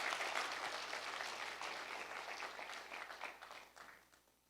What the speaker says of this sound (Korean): 박수 한번 쳐주셔야죠.